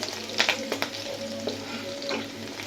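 Taro flowers fry with green chilies in an oily pan, giving a steady close sizzle with a few sharper crackles and stirring scrapes.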